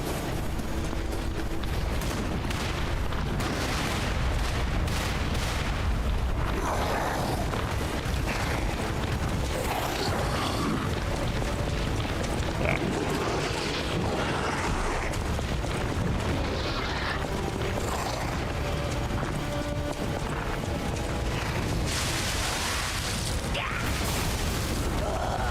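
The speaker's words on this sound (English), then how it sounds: "there's cannons firing at us from up there" Continuous battlefield din in Lies of P with repeated cannon fire booming from above, dense and loud throughout with clanking mechanisms and scattered blasts layered together.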